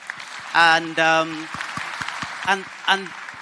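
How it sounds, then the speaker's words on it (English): Audience claps at a tech summit in Kenya are loose and uneven, interrupted by loud voiced shouts or cheers near the start and again toward the end. "let's clap, a louder clap"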